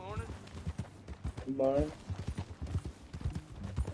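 Horse hooves clip-clop at a steady riding pace in the Red Dead Redemption western, the rhythmic thuds running under conversation between riders.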